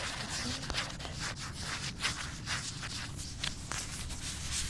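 Skeins of yarn rubbed together produce a soft, continuous scratchy rustle, close and quiet, with faint irregular brushing strokes and no talking.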